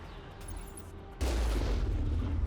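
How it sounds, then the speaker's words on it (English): A cannon fires from the Mako vehicle in Mass Effect, an abrupt loud blast partway through that gives way to a sustained roaring rumble, following a quieter humming engine drone. "The cannon."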